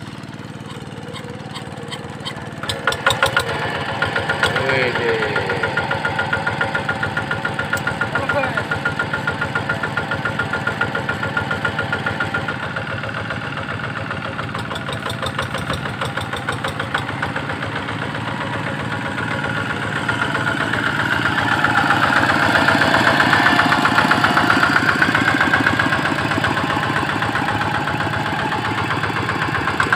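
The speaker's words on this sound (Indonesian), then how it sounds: "mau nyalain mesin traktornya" Rice-field plough tractor working the moldboard ploughing stage starts up with a rough clatter, then idles steadily and loudly, swelling louder near the end; a brief exclamation is heard at the start.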